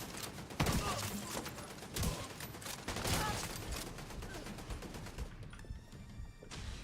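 Dense, sustained gunfire fills a firefight in Tom Clancy's The Division 2, with rapid overlapping bursts and sharp cracks running throughout, loud and close, easing slightly near the end.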